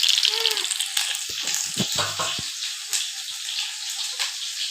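Ridge gourd frying in hot oil with salt gives a soft, continuous hiss, with a few clanks of a utensil against the pan partway through.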